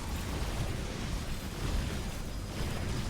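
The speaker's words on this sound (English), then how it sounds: "I think the answer is by just shooting them with cannons." Cannons firing in a StarCraft battle between Protoss armies with carriers and interceptors, a steady rumbling wash of explosions and bursts, fairly quiet and continuous with no clear separate shots.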